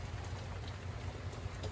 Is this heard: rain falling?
yes